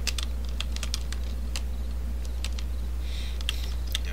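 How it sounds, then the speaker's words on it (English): Typewriter keys clacking inside the video game Portal Stories: Mel, a scatter of sharp, irregular taps over a steady low hum, fairly close and with no talking. "That's a typewriter."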